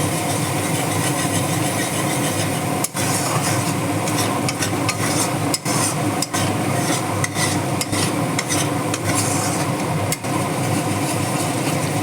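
Ground spice masala with turmeric sizzles in hot oil for a vegetarian cabbage dish, with a steady, close scraping of a spoon stirring through the pan and no voices.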